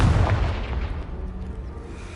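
A Confringo fire spell from Hogwarts Legacy bursts as a single loud boom right at the start, its deep rumble rolling away and fading over a couple of seconds.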